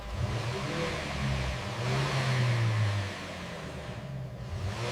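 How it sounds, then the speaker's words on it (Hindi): A Tata Nexon Dark Edition SUV with a turbo engine accelerating, its mid-pitched engine note rising and swelling steadily, then easing slightly toward the end, heard close and alone with no talking. "एक्सीलरेटर दबाते ही इंजन तुरंत रिस्पांस देता है।"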